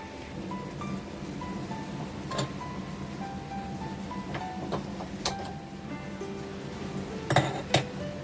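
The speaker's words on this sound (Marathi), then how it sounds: "ह्या टोपाक आता ठेवूया आपण गॅसवरती" A cooking pot of shellfish is set onto a gas stove, with scattered metallic clinks and knocks, including two louder clanks near the end, over a low steady background hum.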